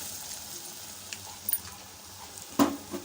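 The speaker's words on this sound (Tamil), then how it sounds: "இப்போ இதோட கூடவே நம்ம மிக்சி ஜாரில் அரைச்ச அந்த உளுத்தம்பருப்பு அதையும் வந்து உள்ளே சேர்த்துடலாம்" Ground urad dal goes into hot tempering with curry leaves in a pan and is stirred, giving a soft, steady sizzle with a few brief scrapes and clinks close by.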